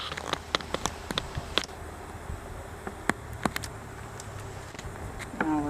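Honeybees buzz steadily around an opened hive during an end-of-summer inspection, a continuous close hum broken by scattered sharp clicks and handling knocks.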